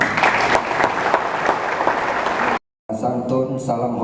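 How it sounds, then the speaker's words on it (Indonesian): Applause from an audience at a hotel event, broad dense clapping for about two and a half seconds, then a brief silent gap before a voice speaks over room noise. "Tepuk tangannya."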